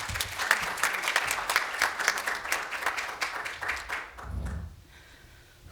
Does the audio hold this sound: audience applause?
yes